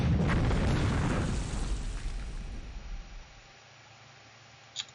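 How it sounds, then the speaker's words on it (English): A heavy artillery bombardment of Wake Island in the naval war game War in the Pacific rumbles as a loud, low booming roar that slowly fades, ending in a brief sharp pop. "And Wake is being bombarded some more."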